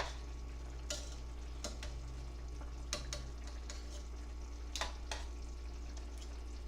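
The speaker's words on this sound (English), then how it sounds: "give it a little mix so that the stew goes around and gets mixed very well" A utensil scrapes and taps through chicken and fish stew with vegetables simmering in a pan over low heat, several light irregular knocks over a quiet steady bubbling hiss, close and soft, with no talking.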